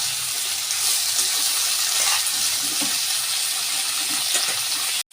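Jackfruit fries in a pan with a steady, loud hiss of frying oil that holds evenly throughout and cuts off abruptly near the end.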